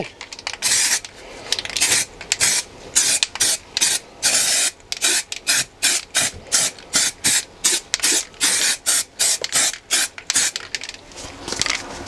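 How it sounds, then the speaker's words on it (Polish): Heat-resistant zinc spray paint rated to 350 degrees goes onto an exhaust part of a Webasto 12 V diesel parking heater: a close, rapid series of short hissing bursts in an uneven rhythm, with no talking. "Ja tam dam to jest cynk w sprayu do 350 stopni z dwie trzy warstwy."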